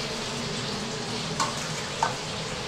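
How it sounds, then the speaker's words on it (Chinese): Chicken wings coated in cassava flour and egg-yolk powder deep-fry in hot oil, giving a steady, even sizzle with a couple of brief louder crackles and no talking. "你看鸡要炸到干透啊！"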